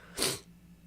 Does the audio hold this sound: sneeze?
yes